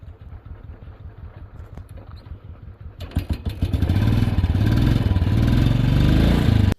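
A motorcycle engine idles with a steady chugging pulse, then revs up louder and rougher about halfway through, running close by during bike preparation on the first day of a Pindari Glacier trek.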